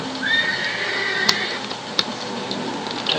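A horse mount neighs in World of Warcraft during PvP, a long whinny rising and falling over the first two seconds, with sharp keyboard clicks scattered through it.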